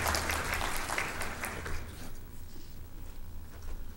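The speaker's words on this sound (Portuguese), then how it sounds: "Vamos receber mais uma vez com uma salva de palmas." An audience at a business talk on the cosmetics market applauds to welcome a speaker, moderate clapping that tapers off after about two seconds into quieter room sound.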